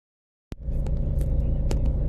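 After a moment of silence, the low, steady engine rumble of a car in stop-and-go morning commute traffic sets in and holds, with light ticks and knocks on top.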